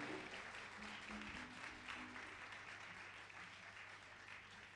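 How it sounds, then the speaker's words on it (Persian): Sustained applause from a concert audience fills a music school's performance hall, steady and dense from start to finish with no pauses. "به افتخار مسئولین خوب سالن یک تشویق خوبی بفرمایید"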